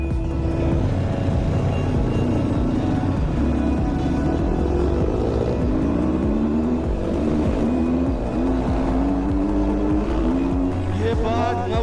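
A motorcycle ridden on a road, its engine droning loud and close with rising and falling revs throughout, wind rumble underneath and a voice talking over it.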